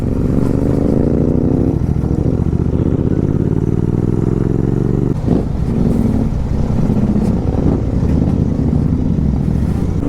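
Motorcycle riding a rough off-road route in Ladakh beside a river, its engine droning loud and steady with shifting pitch, wind rumble and clattering over bumps throughout.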